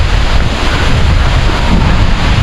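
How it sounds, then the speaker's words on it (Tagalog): Loud, strong wind roars continuously against the microphone at a small fishpond ahead of a storm, a heavy unbroken buffeting with no voices. "Ang lakas ng hangin."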